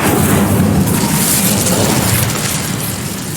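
Incendio fire spell cast in the Hogwarts Legacy video game: a loud, dense roaring burst of flame that hits at once and slowly fades over a few seconds.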